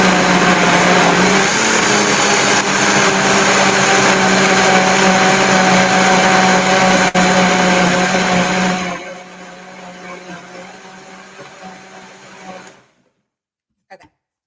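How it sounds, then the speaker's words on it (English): A Vitamix blender whirs loudly and steadily while blending cashew caramel pudding, then its roar drops to a lower spin and cuts off near the end. "So I'm gonna blend it up a little more."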